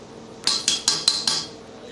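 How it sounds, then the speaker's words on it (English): A spoon clinks five times against a pot while brown rice is stirred into boiling water on high heat, sharp metallic taps spaced evenly and close up. "I stir it a little bit"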